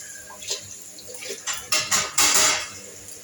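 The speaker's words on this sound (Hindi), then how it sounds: "चलो मैं सारे बर्तन धो लेती हूँ, प्लेटफॉर्म साफ कर लेती हूँ" Dishes being washed in a home kitchen sink under running tap water, with plates and cutlery clinking and clattering in irregular bursts that grow louder toward the end, no talk.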